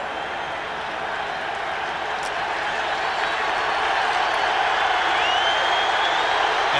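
A steady, broad roar of a large stadium crowd at a 1992 Rams at Cowboys American football game, swelling slightly louder over the seconds, with a faint whistle-like tone near the end and no clear talking.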